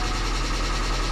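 A car engine, low on oil, runs right after a timing belt repair, giving off a harsh, steady mechanical drone with a dense rattling texture. It holds constant and close throughout, with no voices.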